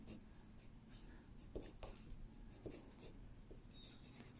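A black Derwent pencil draws lines on paper, a steady close scratching with short, sharper strokes scattered through it, heard on its own without talk.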